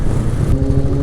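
A Mercedes car passes close by with a loud, rough engine drone that holds steady through the brief moment, no voices present.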